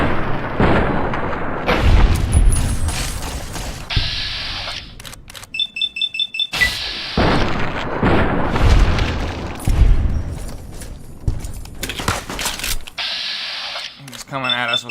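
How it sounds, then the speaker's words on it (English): Gunfire in the video game Fallout New Vegas comes as several sharp, loud shots in separate bursts with short beeps between them, while a voice talks over the action. "We'll just shoot Maria"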